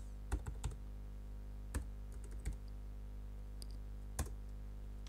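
Sparse, faint key clicks from a computer keyboard as an assembler command is entered, a handful of isolated taps spread across a quiet room with steady low hum.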